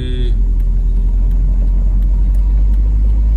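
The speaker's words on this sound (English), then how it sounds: "the diff seems really noisy" A Mercedes SL500 with a noisy differential drives along, giving a steady, loud, low rumble of road and drivetrain noise throughout.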